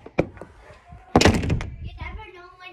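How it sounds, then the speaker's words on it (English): A door shuts with a solid thunk near the start, followed by a louder burst of knocking and rattling handling noise, with a voice faintly in the background. "We have to close the door."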